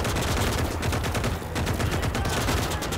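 Dense bursts of machine gun fire crackle in the Gates of Hell video game, rapid overlapping shots forming a loud continuous barrage with scattered explosions, close and intense throughout.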